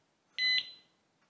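A REAPP alarm disc lock lets out a single short, loud electronic beep as it is armed, about a third of a second long, then fades into quiet.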